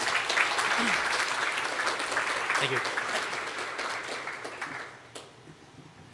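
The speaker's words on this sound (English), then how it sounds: "let's give Ken another round of applause" A conference audience applauds a speaker with steady, dense clapping that gradually fades out near the end, followed by a short spoken thank-you.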